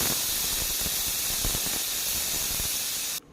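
A pressure cooker boiling potatoes releases steam in a loud, steady, close hiss lasting about three seconds, then cuts off abruptly.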